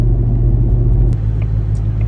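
A Ford Mustang S650 with a Whipple supercharger and competition intakes drives along, its engine a loud, steady close-up rumble with a brief shift in tone partway through.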